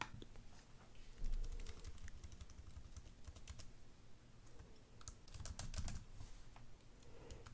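Quick, continuous key clicks on a computer keyboard as a network name and password are typed in, close and fairly quiet, with brief pauses between bursts.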